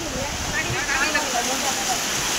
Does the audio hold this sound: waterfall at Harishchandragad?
yes